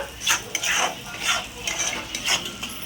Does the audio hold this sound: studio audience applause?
no